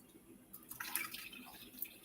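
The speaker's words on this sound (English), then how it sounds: "I have a bowl to catch the bean liquid, and I'm just going to pour them in there and drain." Canned chickpeas and black beans are poured into a colander while their liquid drains into a bowl below, giving a faint, close trickle and light splashing with small drips, and no talking.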